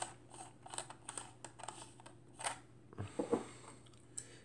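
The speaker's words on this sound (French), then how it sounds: "Voilà, l'appareil déclenche." A 1959 Krasnogorsk Zenit C film camera with an Industar 50mm f/3.5 lens is wound and fired. Faint small mechanical clicks and ratchets lead to a sharper shutter release, close and quiet with no talk.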